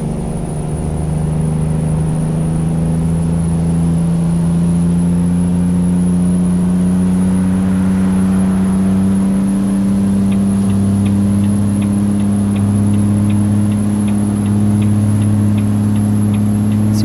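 A heavily loaded VW 26-420 truck pulling a nine-axle livestock trailer strains up a mountain grade in Euro Truck Simulator 2, its engine droning in a loud, steady low hum with a faint ticking creeping in later.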